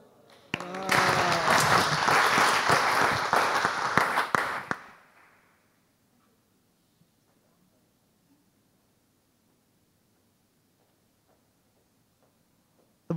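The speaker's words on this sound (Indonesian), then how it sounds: "Tepuk tangan lagi dong untuk Kak Ajeng" An audience at a course session on financial inclusion and technology applauds for about four seconds of dense, close clapping, which then fades out into near silence.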